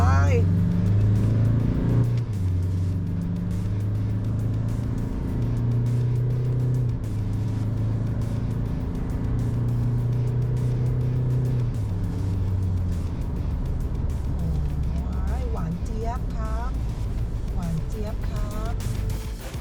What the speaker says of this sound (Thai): เดี๋ยวจะดูว่าตัวดีแม็ก นางจะท็อปสปีดอยู่เท่าไหร่